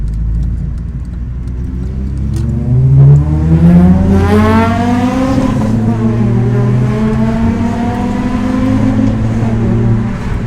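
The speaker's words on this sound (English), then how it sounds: "You gotta hear this VTEC." Honda Integra Type R DC5 with a BYP Racing 70 mm titanium exhaust revving hard, its VTEC engine note rising and falling in clear sweeping pulls over a steady idle rumble, loud and close.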